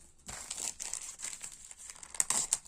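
Plastic packaging bags crinkled and crumpled during an unboxing of an AliExpress order, close irregular rustling bursts with sharper crackles near the end, no talking.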